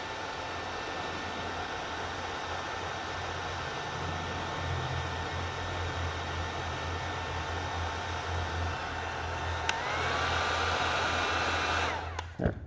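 A handheld heat gun blows steadily while shrinking heat shrink tubing onto heavy gauge wiring, a constant airy roar with a faint whine that shifts briefly near the end before it cuts off.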